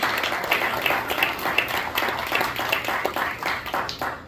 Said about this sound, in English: I would love everybody to give them a round of applause